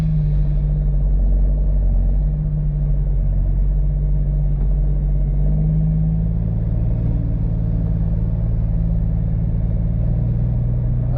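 Kenworth W900B dump truck with a CAT C13 engine pulling away in low gear: a loud, steady diesel rumble and drone close by, holding an even, heavy pitch throughout with no talk.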